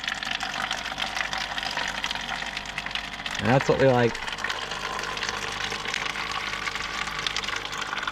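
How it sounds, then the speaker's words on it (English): Fresh water gurgles briefly into a clean bowl for a dog named Bella inside a van, a short splashing fill under steady background hum, with someone speaking. "Give Bella some fresh water in a nice clean bowl."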